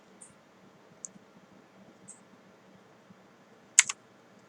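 Computer keyboard keys are pressed for Cinema 4D shortcuts, heard as a few sparse, faint clicks and then a sharper double tap near the end against a quiet room.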